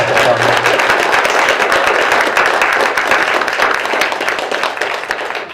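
Audience applause for a political representative at a public event, a dense, steady wash of many hands clapping that holds loud and even, then tapers slightly toward the end.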